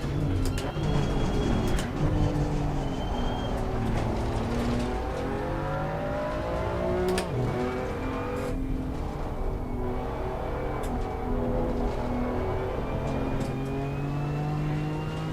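Race car from the German GT4 lineup of the Assetto Corsa Competizione Challengers Pack, driving a lap with a steady, loud engine drone that rises and falls through upshifts and downshifts under braking, with no talk.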